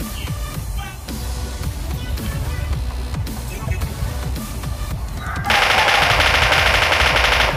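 Automatic gunfire in the mobile shooter PUBG Mobile Lite: rapid bursts of shots crackle throughout, growing louder and denser toward the end as a sustained close-range volley.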